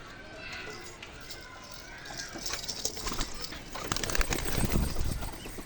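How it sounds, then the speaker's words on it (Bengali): Malbai pigeons in a loft coo and flap their wings, a soft rustling flutter rising to louder bursts of wingbeats toward the end, with a person talking over it. "এগুলো আমার এখানে মালবাই পায়রা রয়েছে।"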